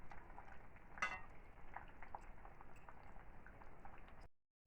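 Fish curry with lentil dumplings and eggplant simmering in a pot, a soft steady bubbling hiss with faint clinks, quiet and close, ending abruptly.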